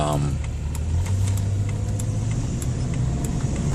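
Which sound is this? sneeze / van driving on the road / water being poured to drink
van driving on the road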